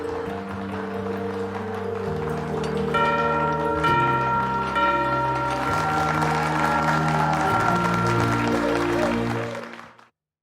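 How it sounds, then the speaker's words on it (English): A wedding bell rings out over sustained music and crowd applause at an outdoor ceremony, the tolling blending with cheering until the sound cuts off abruptly near the end. "Ring that bell, Coop."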